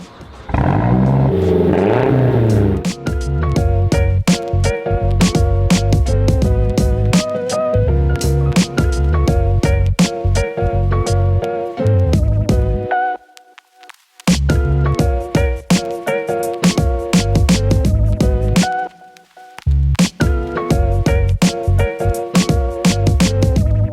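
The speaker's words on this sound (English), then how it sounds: "start her up so we can get our first little exhaust check" A modified Mazdaspeed3 turbo four-cylinder idles and revs through its exhaust, a loud, steady close-up drone with repeated throttle blips and two short drops in level.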